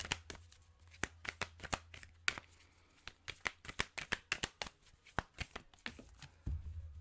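Tarot cards are shuffled and drawn by hand in a quiet room, giving a close run of quick, crisp flicks and slaps in an irregular rhythm, with a soft thump near the end.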